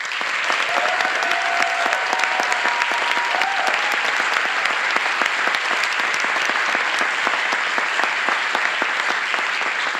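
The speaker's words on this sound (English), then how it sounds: "we should really give them a really hearty round of applause" Loud, continuous applause from a graduation ceremony audience honouring the graduates, a dense wash of clapping that holds steady throughout, with a few faint voices rising within it.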